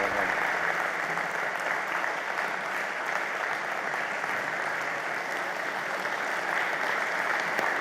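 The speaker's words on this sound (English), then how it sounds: "applauding all the people that are still arriving." A large audience at an education summit keeps up sustained, even applause for a long stretch, a dense steady roar of clapping with no pauses.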